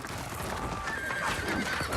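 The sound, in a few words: cavalry horses charging in a film battle scene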